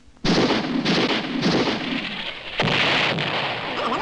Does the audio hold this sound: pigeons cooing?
no